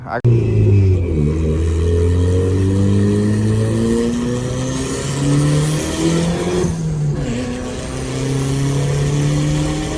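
A turbocharged Lexus IS300 car engine accelerates hard under boost, its loud roar climbing in pitch through the gears, with a brief break midway as it shifts.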